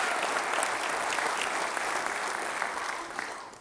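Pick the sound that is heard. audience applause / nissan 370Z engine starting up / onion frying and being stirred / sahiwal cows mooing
audience applause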